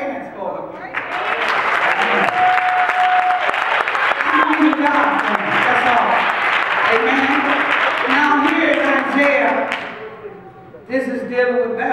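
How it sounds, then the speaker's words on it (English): A church congregation at a watch night service claps hands loudly and continuously for about ten seconds, dense applause with scattered shouts, then fades before a short burst resumes. "Come on, clap your hands for him."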